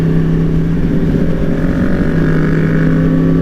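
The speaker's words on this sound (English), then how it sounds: "Ducati Hypermotard." Ducati Hypermotard motorcycle engine droning loudly and steadily, heard from close by over constant road and wind rush, with a gritty, throbbing low rumble.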